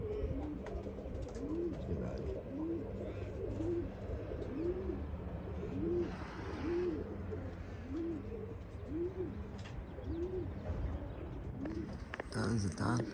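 Pigeons in a rooftop pigeon tower coo in a steady repeating rhythm, each low rolling coo recurring about once a second, close and clear, with a voice and faint background noise now and then.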